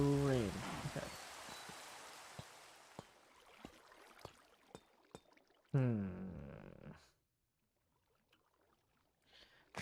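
Rain in Minecraft patters throughout, punctuated by sharp, isolated clicks and taps. Brief bursts of voice-like sound rise at the start and again midway before fading to near silence.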